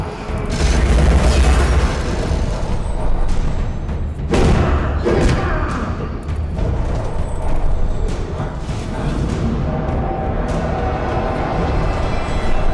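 Bombs detonating in Alice: Madness Returns, a run of deep booms and heavy thuds over continuous loud game combat noise, with several strong blasts spread through the fight.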